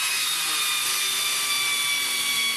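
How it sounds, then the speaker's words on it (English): A power tool whirs in a steady, close, high-pitched whine as the caliper bracket bolts are driven back in during a front brake pad replacement on a 2006 Nissan Altima. "caliper bracket bolts go back in."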